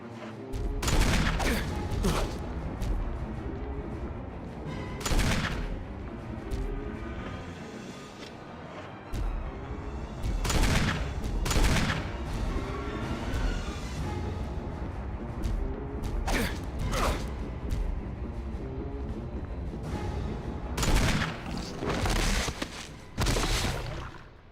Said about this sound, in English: But he took like 5 magnum shots.